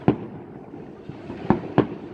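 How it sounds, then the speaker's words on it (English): New Year's Eve fireworks in Russia, with many people launching at once, crackle and pop at middling distance: three sharp bangs stand out over a steady rumble of smaller bursts. "30 or more people letting off fireworks at the same time"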